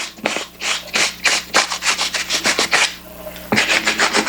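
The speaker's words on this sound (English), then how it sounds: "this is going to remove any of like dirt, oil" A suede brush scrubs worn shoes to lift dirt and oil, making rapid, rhythmic, close-up rasping strokes, about a dozen in a row, then a brief pause before the strokes resume.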